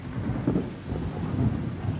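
Thunder rumbles low and steady from a brewing storm in the African bush, a continuous rolling roar with a couple of swells, faint hiss of rain or wind over it, no voices.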